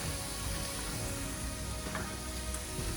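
Vegetables for a Thai yellow curry with prawns sizzle hard in a hot pan, a loud, close, continuous frying hiss with faint crackles and no talk.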